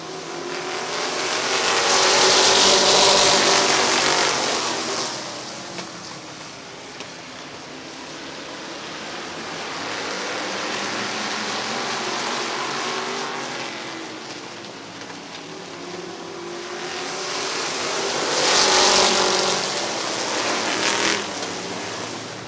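Race cars roaring around an oval speedway during an August evening race at Midvale Speedway, engines loud and sustained, swelling as packs pass close by and fading between passes, with no voices over them.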